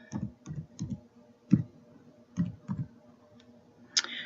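Typing on a computer keyboard, a handful of distinct key clicks in an uneven rhythm with a heavier space bar press, close and alone, no talk.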